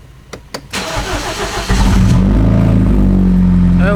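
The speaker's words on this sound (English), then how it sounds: "I'll try to start the car so that we see what we got" A BMW's engine cranks with a few sharp clicks, then catches and settles into a loud, steady idle close by.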